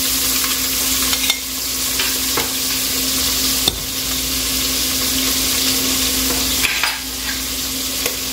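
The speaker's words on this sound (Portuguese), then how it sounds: "Agora eu vou fritar ele." Chicken fillet frying in a hot pan, a loud, steady close-up sizzle with a constant hiss, occasional louder spatters and utensil clinks, no voices.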